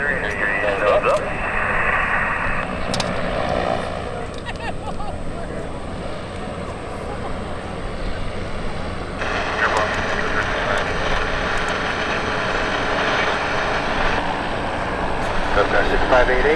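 Goodyear blimp engines at the Cleveland National Airshow, with thrust on the forward engine as the nose pitches up, make a steady, loud propeller-engine drone throughout. Talk runs over it.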